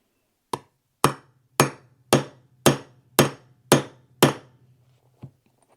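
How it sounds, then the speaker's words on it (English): Eight evenly spaced, sharp hammer strikes ring out close by while setting a hardware fitting on a Longchamp pouch, followed by a lighter final tap after a short pause. "So now you want it to hammer."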